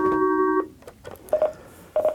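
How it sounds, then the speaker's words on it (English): Incoming call tones on a live radio hunting hotline: a steady electronic tone that cuts off, then two short bursts of rapid repeated beeps, clear and fairly loud with no talking. "we got a phone call coming in"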